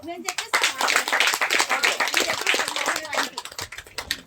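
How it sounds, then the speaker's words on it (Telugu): Audience clapping at a university gathering, a dense patter of many hands sustained through most of the moment with a voice speaking over it near the start and end. "చప్పట్లో."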